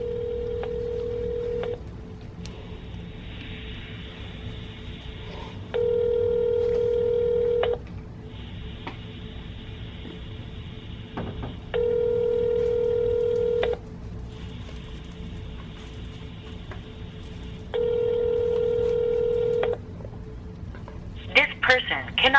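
Telephone keypad dialing tones on an outgoing call to a bank number, followed by repeated long ringback tones at steady intervals, clear and close with a little rustle at the end.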